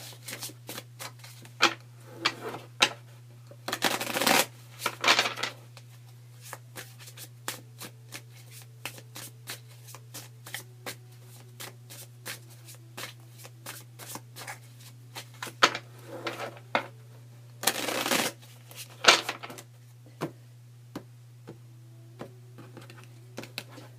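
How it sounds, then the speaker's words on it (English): Tarot cards shuffled by hand up close, with quick riffling bursts and soft taps between them over a low, steady hum. "So let's just shuffle"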